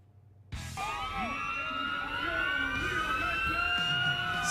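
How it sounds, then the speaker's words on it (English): Sirens wail loudly and continuously at a Friday night high school football game as the home team makes its entrance, kicking in abruptly after a half-second of crowd murmur and holding steady throughout. "Sirens were going off with the Rams."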